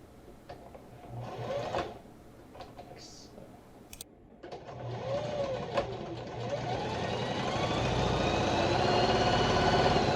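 A sewing machine stitching a French seam on a kimono, its motor whirring up and running in a long steady close hum that grows louder and holds, with a few faint handling clicks first.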